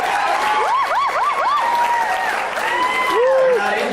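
Sustained applause from a crowd at a high school band banquet, dense and steady clapping filling the room throughout with some cheering voices mixed in.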